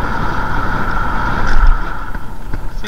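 Teverun Fighter 11+ electric scooter ridden at speed, a steady loud rush of wind buffeting the microphone over a faint motor whine, continuous and close with no talk.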